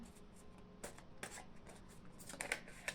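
Lenormand cards are shuffled in quick, crisp riffling bursts, close and fairly quiet, with brief pauses between them.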